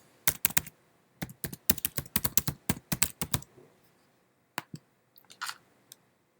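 Keys on a computer keyboard are typed in quick bursts of close, crisp clicks, then a pause and a few scattered final keystrokes, with no voices.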